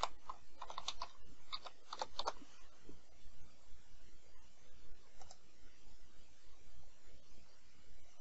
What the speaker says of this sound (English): go ahead and type in that password